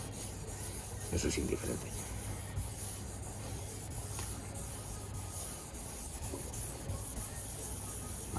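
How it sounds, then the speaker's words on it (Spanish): Paint being wet sanded by hand with sandpaper and plenty of water during a paint restoration: a steady, close rubbing scrape that keeps going under a man's speech. "Siempre que trabajemos lija con agua, mucha agua, mucha."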